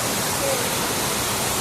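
Waterfall at Cascada del Duende near Puerto Almanza, Ushuaia, a steady broadband roar of falling water that stays constant and close throughout, with no other sounds standing out.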